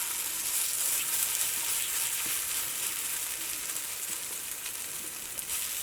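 Egg and potato snack frying in oil in a pan over a reduced flame, a steady hissing sizzle with fine crackles throughout, even and close, with no voices.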